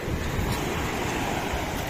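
Sea waves break at the seaside under strong wind: a loud, continuous roar of surf and buffeting gusts against the microphone, with no voices.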